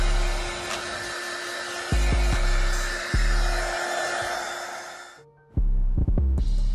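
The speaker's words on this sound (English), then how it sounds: "we must uncrease these midsoles using a heat gun, and we simply just apply it to the midsole" A heat gun blows steadily on the midsoles of Yeezy slides to uncrease them, a constant airy roar with low thumps as the shoe is handled, cutting out briefly before resuming.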